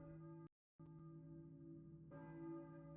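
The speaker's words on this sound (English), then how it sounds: "Hear a church bell, maybe? Who's ringing the bell?" Church bell tolling in the Silent Hill video game, a sustained ringing tone with a brief cut of silence, then another strike swelling the resonance, very faint and distant.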